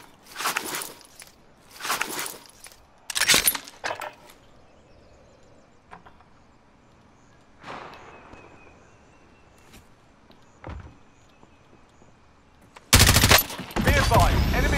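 Gunfire during a Call of Duty: Modern Warfare match, several bursts of shots spread across the clip with quiet gaps between them, then a loud sustained burst near the end.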